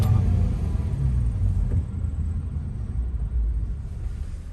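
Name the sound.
manual transmission car climbing steep hill in first gear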